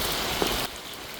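Steady, continuous rain falls outdoors, a dense even hiss of drops on surfaces that drops slightly in level partway through, with no voices.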